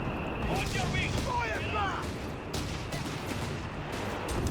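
Rattling gunfire and dull booms from a Company of Heroes 3 battle sound continuously, with bursts of shots under an excited voice commenting.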